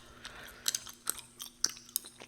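Gum is chewed close to the microphone, a series of wet, sticky clicks and smacks coming in an irregular rhythm about every half second, crisp and intimate against a quiet background with no talking.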